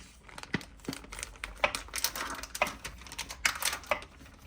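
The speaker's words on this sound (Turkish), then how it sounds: "Ben de şöyle Namet'in sosislerini dilimleyeceğim." A knife cuts through Namet sausages on a cutting board, making a quick series of close, light taps and soft crackles with an irregular rhythm and no speech.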